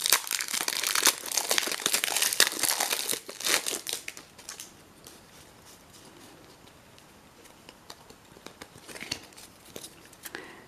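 A WWE Slam Attax 2020 trading card packet's plastic wrapper is torn and crinkled open, with loud close rustling bursts early that fade to quieter intermittent crinkles.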